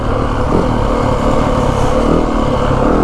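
A 2025 Yamaha WR 450F dirt bike is ridden in second gear on sand, its single-cylinder engine a loud, close, steady throbbing drone with slight throttle swells.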